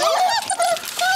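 A six-week-old miniature dachshund puppy whimpers in a run of thin, high, wavering cries, close and clear, with faint talk in the background.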